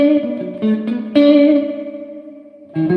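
An electric guitar plays a few sparse notes through a digital spring reverb effect, each note ringing out with a wet, drippy tail that fades slowly before a final chord sounds near the end.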